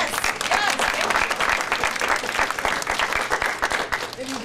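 A hall full of people applauds and cheers at an award ceremony, a sustained wash of close clapping with a few whoops, while someone speaks over it.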